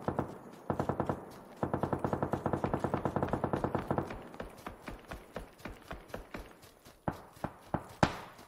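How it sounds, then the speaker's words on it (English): Loud gunfire: a rapid automatic burst of evenly spaced shots, then a pause, then another long burst, followed by slower scattered single shots with sharp cracks close by. "Loud ass gun."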